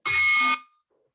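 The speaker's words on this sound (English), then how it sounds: "Thank you for ringing the bell." A bell rung once at a Rotary Club meeting gives a bright, loud half-second ring with a sharp onset, then cuts off into a short fading decay and quiet room.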